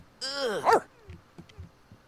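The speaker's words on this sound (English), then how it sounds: "I don't mind the howling. That's kind of annoying." A dog in The Sims 3 video game lets out a loud rising, wavering howl-like yelp up front, followed by quieter scattered game sounds.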